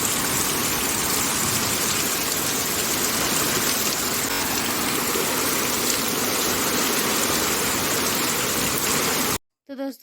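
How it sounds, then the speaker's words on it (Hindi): Rain pours steadily during the monsoon season outside a home, a loud, continuous hiss of falling water with no breaks until it cuts off abruptly just before the end. "उससे पहले ही बारिश स्टार्ट हो गई है"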